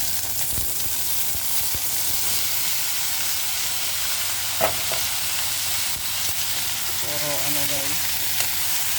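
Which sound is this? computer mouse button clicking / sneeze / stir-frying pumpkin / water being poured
stir-frying pumpkin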